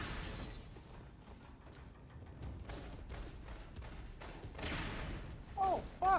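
Grenades detonating in the inFAMOUS: First Light video game: a few soft, muffled bursts of blast noise over a low, quiet background, with one brief sharper pop near the end.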